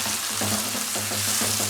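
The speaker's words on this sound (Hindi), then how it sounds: "अब मैं इसमें साथ ही सफ़ेद ज़ीरा और अदरक लहसुन का पेस्ट डालकर इसको सौते कर लूँगी।" Onion with white cumin and ginger-garlic paste sautéing in a pan for qeema karela, a steady close sizzle with faint stirring scrapes and soft pulsing, no voices.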